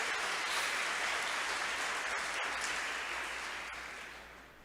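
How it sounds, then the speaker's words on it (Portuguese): Applause from a church congregation honouring Jesus at a preacher's call, a steady broadband wash of clapping filling the room and slowly fading toward the end. "Posso ouvir um aplauso ao Senhor Jesus aqui?"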